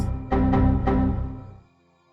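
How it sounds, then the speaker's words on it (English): A Protogen shutdown sound effect: a descending electronic tone with three quick pulses near the start, then a drawn-out fade into silence, heard alone with no talk. "Was it the shutdown noise?"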